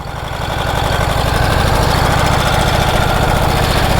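A 108-year-old Harley Davidson motorcycle engine runs loud and close, its steady rapid chugging pulse and mechanical rattle building briefly at the start, then holding an even idle-like beat throughout.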